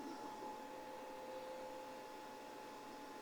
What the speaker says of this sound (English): So I've got 2 vacuum cleaners plus a battery charger running off of this.